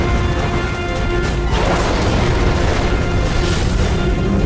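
Shells exploding on the bridge of a warship, the Japanese cruiser Kumano, a loud sustained roar of blasts and crashing with a heavy surge partway through.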